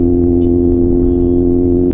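Kawasaki Z800 motorcycle engine holding a steady, loud, deep droning hum up close, with an even rumble and no noticeable rise or fall in pitch.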